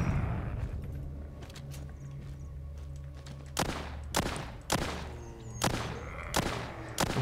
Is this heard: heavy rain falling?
no